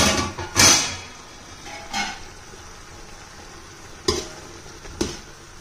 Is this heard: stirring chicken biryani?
yes